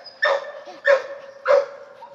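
Three sharp barks from a dog come at even intervals outdoors on a property with new fence posts, moderately close and standing alone in an otherwise quiet moment.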